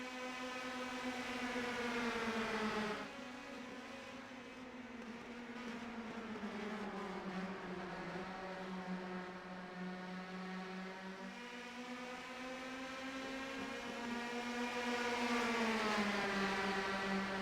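Race cars at New Hampshire lifting off the throttle through the turns: a sustained, loud engine drone whose pitch sags and recovers in long sweeps as a drafting group passes, with no talk.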